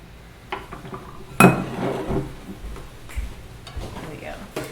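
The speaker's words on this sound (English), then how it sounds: "we're going to start whisking together our dry ingredients" A whisk clatters against a bowl while dry ingredients for chocolate chip cupcakes are mixed, with clinking metal taps and scraping strokes in irregular bursts, fairly close and loud, under light background sounds.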